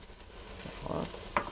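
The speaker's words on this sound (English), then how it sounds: "Then add the carrot, onions, and turnips." Carrot, onions and turnips dropped into a hot pot for borscht, giving a soft thud and rustle followed by a brief sizzle and a light clink, close and fairly quiet.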